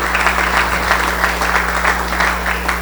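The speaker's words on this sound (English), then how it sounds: "Let's give a round of applause for all the mothers in the" Audience applauding steadily at a Rotary club meeting, a dense, sustained round of clapping from a roomful of people, fairly loud and continuous with no talk over it.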